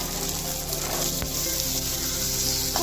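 Peas hit fried spices in a hot pan and sizzle loudly and steadily, a close, dense frying hiss with a brief stir partway through and no voices.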